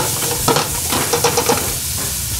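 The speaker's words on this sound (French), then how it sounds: "Ça va aider à cuire les carottes." Carrots with a little salt cooking in a saucepan, a steady close sizzle and bubbling hiss with a few stirring clatters, no voices.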